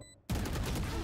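Gunfire from a Valorant match: after a brief quiet moment, a loud, dense burst of rapid shots begins and keeps going steadily to the end, close and full.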